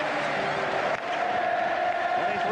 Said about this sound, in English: Maryland starting the amen cheer.